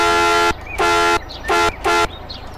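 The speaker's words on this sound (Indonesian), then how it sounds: "Klaksonnya mantap" A bus horn in Euro Truck Simulator 2, a modded Discovery HSIR coach, blares four loud, tonal honks of uneven length over a low engine rumble.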